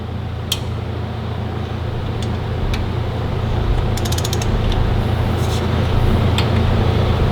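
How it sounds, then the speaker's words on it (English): A torque wrench ratchets while bolts are torqued on the turbo of a Caterpillar 3406B diesel engine. Quick bursts of ratchet clicks sit over a constant, loud background hum. "bottom two I can get easy with the torque wrench"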